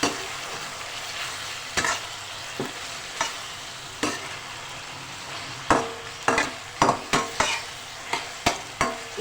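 Spices sizzling in hot oil in a pan for a potato and poppy-seed (khuskhus) curry, with a steady fry hiss broken by repeated sharp spoon scrapes and stirring clatters, busier toward the end.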